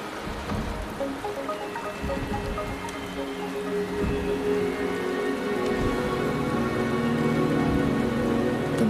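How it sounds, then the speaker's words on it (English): Steady rain falling in the video game Wuthering Waves, a dense, even hiss of droplets with a soft, continuous patter and no talking. "The rain is subsiding, and the sky will soon clear."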